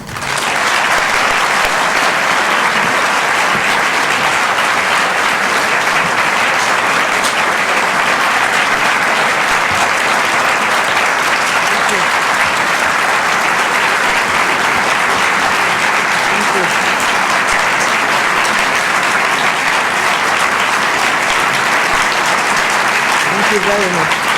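A large audience applauds steadily for a welcomed speaker, Dr. Hanan Ashrawi, at a talk on peacemaking: dense, continuous clapping at full volume for the whole stretch, without letup or fading.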